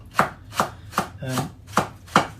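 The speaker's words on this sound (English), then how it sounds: "what we want to do with this is we want to finely chop it" White cabbage being finely chopped with a knife on a board for chicken gyoza: six crisp, evenly spaced chops, close and clear, with no talking.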